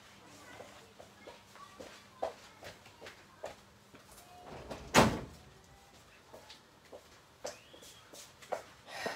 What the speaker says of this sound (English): I'm just going to get up and shut that door.